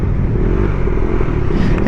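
A Husqvarna Svartpilen 401 single-cylinder motorcycle with an intermittent shut-off fault, heard close and loud as its engine runs roughly with a dense low rumble while it begins to die.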